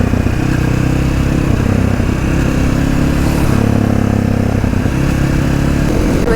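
A 2020 Sherco 500 SM motorcycle engine runs loudly and steadily close by, its low throbbing rhythm shifting in pitch as it idles and revs up and down.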